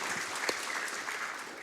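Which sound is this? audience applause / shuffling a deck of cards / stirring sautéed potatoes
audience applause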